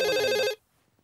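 A telephone rings for an incoming call with a loud, bright electronic ring that cuts off abruptly after about half a second, leaving near silence.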